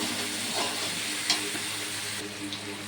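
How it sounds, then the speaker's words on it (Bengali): Tomato paste frying and being stirred in a pan of oil, a steady close sizzle with occasional scraping stir strokes throughout. "টমেটো পেস্টটাও ভাজা ভাজা হয়েছে"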